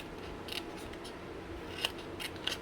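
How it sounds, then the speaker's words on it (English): Scissors snip a notch into scored craft card, with several short, crisp cuts scattered across a quiet, close-up workspace and no talking. "We're going to cut on the score line and then cut a notch."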